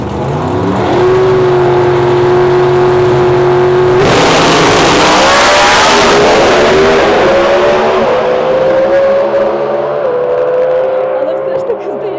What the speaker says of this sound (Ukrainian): Зараз будемо нітромітановий драгстер зблизька дивитись